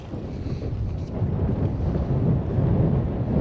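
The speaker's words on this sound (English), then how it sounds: "So windy. So windy." Steady, heavy wind buffets the microphone beside a rough lake, a continuous low roar that swells slightly louder partway through.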